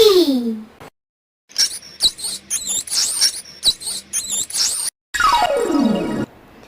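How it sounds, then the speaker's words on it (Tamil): A mouse squeaks in a quick run of short, high, chirpy calls with brief gaps, loud and close, bracketed by falling whistle-like sweeps. "எலி"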